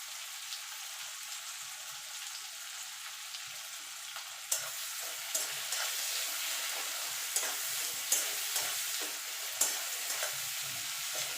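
Onions fry in a pan, turning golden, giving a soft steady sizzle with a louder crackle kicking in midway and occasional scraping stirs, no talking.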